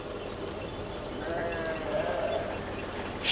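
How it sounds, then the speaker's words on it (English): A flock of sheep passing by on a street, faint bleats rising over a low outdoor murmur, with a louder noise right at the end. "Sheep are going right by my mom's house."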